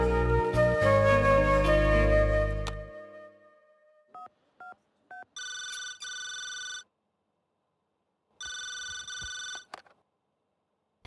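Telephone ringing in two long electronic bursts, loud and clear with nothing else around, following a short stretch of music and a few brief beeps.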